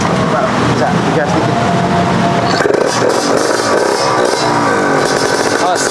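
A big-displacement drag motorcycle engine is blipped, a loud, close, rough engine roar with clattering mechanical noise running throughout while people talk over it.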